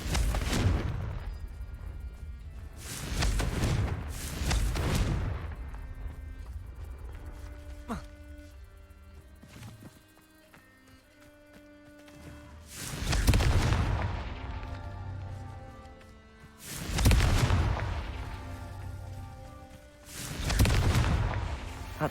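Fire-spell explosions in Hogwarts Legacy boom in loud bursts, several spaced across the stretch. Spoken voices and softer game sounds fill the quieter gaps between them.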